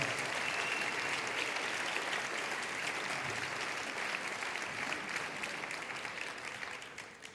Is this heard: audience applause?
yes